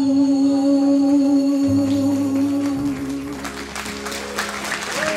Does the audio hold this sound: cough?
no